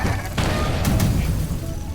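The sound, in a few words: missiles hitting the ship in video game FTL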